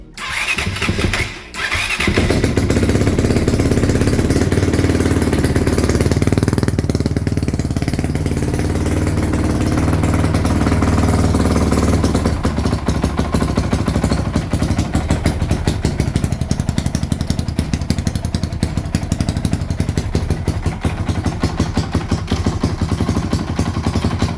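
Honda CRF-X 450 dirt bike, left standing in a barn for a year, kicks over after a brief attempt and settles into a loud, close, steady clattering idle and revving.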